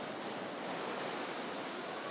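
Huge ocean waves off Nazaré, Portugal, stirred by a strong storm and powerful wind, give a steady, dense roar of surf that fills the whole stretch with no distinct breaks and no voices.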